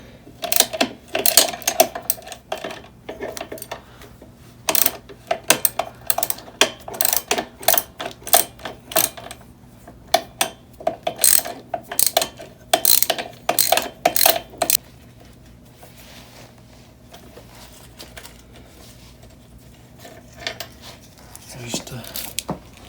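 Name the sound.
ratchet loosening bolt on Yamaha TTR125 engine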